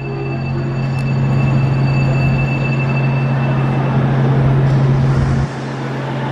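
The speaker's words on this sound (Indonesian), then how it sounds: "Keberangkatan kereta api cepat G1275 tujuan akhir stasiun Tegaluar." A high-speed train departs and rolls past with a loud, steady roar and rumble, a low hum underneath, fading slightly near the end.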